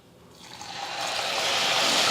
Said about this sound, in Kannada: ಇದಕ್ಕೊಂದು ಸ್ವಲ್ಪ ನೀರು ಹಾಕ್ಕೋತೀನಿ ನೋಡ್ರಿ.